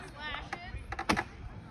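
An axe strikes a wooden block in a springboard timbersports chop. A few sharp knocks land irregularly at a moderate distance under crowd chatter and talk.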